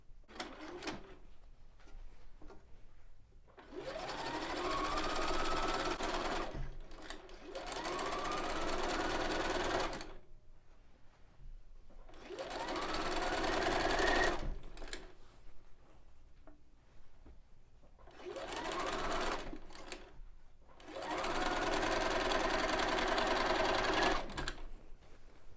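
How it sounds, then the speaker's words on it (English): A sewing machine stitches diagonal lines across a two-color quilt in five bursts of fast, steady whirring, each several seconds long, separated by short quiet pauses. "I'm going to sew all my diagonals on the machine now"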